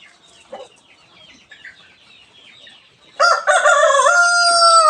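A rooster in a very muddy chicken coop under drizzly, overcast skies lets out one loud, drawn-out crow that rises sharply over faint background clucking and bird calls.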